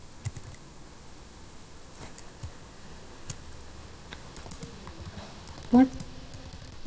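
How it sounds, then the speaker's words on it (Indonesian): Fingers tap on a computer keyboard in short, scattered, faint clicks spread across a quiet room, with a soft voice briefly heard underneath. "Kita ketikkan switch port"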